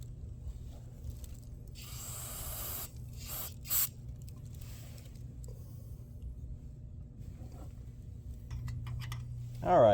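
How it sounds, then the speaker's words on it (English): Brake cleaner hisses in broad spray bursts onto trailer parts, one long blast followed by a couple of short squirts, close to the microphone over a steady low engine-like hum. "I'm going to resort now to getting me some brake cleaner, and we're going to clean that all off"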